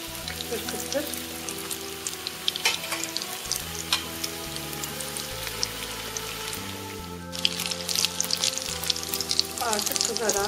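Square börek pastries fry in hot oil with a steady, dense crackling sizzle throughout, close and even, while background music plays and the sizzle grows a little brighter toward the end.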